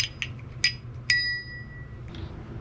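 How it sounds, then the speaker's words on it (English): A bicycle bell on a Jetson Bolt Pro folding e-bike is flicked, giving short bright dings, the last one ringing out and fading over a quiet low hum. "Now it does come with a bell."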